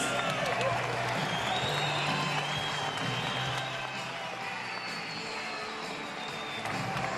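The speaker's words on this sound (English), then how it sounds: "A round of applause, please, for these two heavyweight warriors." Arena crowd applauding and cheering after a twelve-round professional heavyweight boxing bout between Joseph Parker and Carlos Takam, a dense, steady roar of clapping and crowd noise with voices mixed in, loud and continuous throughout.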